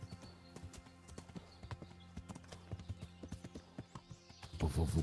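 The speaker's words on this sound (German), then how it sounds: "So, wir reiten mal wieder querfeldein." Horse hooves clip-clopping in a steady trotting rhythm while riding cross-country through woods in Kingdom Come: Deliverance, close and moderately loud, with a brief neigh-like burst near the end.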